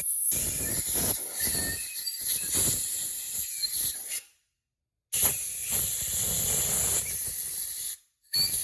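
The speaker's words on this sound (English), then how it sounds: "get an air hose with the air nozzle, and right where the main studs are gonna go," A compressed-air hose nozzle blasts out the main stud holes of an engine block in two loud hissing bursts, the first choppy and pulsing, the second steadier, with a short silence between them.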